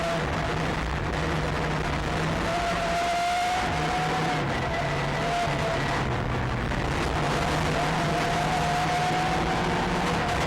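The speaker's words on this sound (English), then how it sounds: "Listen as the Peugeot just gives up." A Peugeot rally car with a broken gearbox at the Acropolis Rally, its engine note wavering and faltering at a distance before giving up, heard alone without voices.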